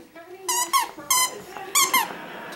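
A squeaky frog toy for a dog squeezed repeatedly, several sharp, close squeaks in quick pairs, with a voice talking around them.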